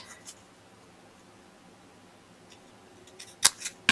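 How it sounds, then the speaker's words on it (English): Paper is cut with scissors while making a button card, a few quiet snips near the end after a stretch of near silence, each cut sharp and close. "I'm going to cut it"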